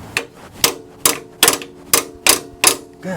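A ratchet handle hammers on a brake part while Powerstop Z36 brakes are fitted to a 2001 Suburban, giving eight sharp, evenly spaced metallic knocks, loud and close, with no talk.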